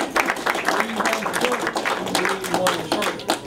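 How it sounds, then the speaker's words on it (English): Audience applause for Charlotte Brimmer at a Carson City Council campaign event, a short burst of scattered clapping with talking over it. "We can give her a round of applause."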